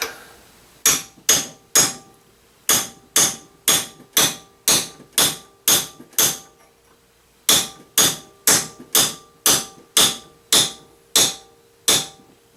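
Sharp, evenly spaced hammer blows drive a dull chisel into wood, two runs of about a dozen hits each with a short pause between, loud and close.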